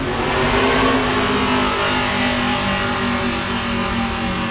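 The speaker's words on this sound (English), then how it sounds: "Sounds like they're testing some engines out" Race car engines rev steadily at close range at JR Motorsports in Mooresville, North Carolina, a loud continuous roar with rising and falling pitch and no voices.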